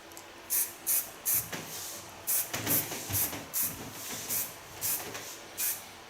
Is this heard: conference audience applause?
no